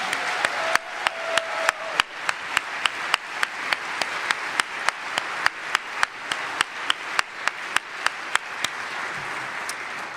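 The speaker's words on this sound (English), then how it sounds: "Friends, let's have another round of applause for T." A congregation applauds a performer, the general clapping overlaid by one close, loud pair of hands striking in a regular, evenly spaced rhythm.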